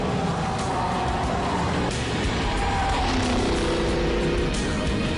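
A Mercedes-Benz SLS AMG sports car drives at high speed, its engine roaring steadily with a constant dense rush of road and wind noise and a few brief shifts in pitch.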